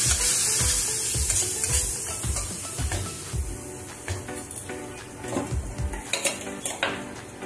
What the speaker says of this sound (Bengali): মশলাটাকে এবারে আমি ভালো করে একটু কষিয়ে দেবো।